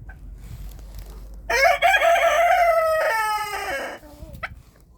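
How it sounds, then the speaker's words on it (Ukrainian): A small bantam hen lets out a loud, drawn-out cackling call lasting a couple of seconds, close by, with quiet background before and after. "Мала, вредна курочка. Втекла, воно, втекла, дивіться."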